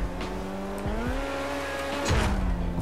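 A sports car in a street race within the GTA V roleplay game, reportedly a Mazda RX-7 VeilSide, revs steadily with the engine pitch rising and falling through gear changes, then a louder surge near the end, loud and continuous with no talk.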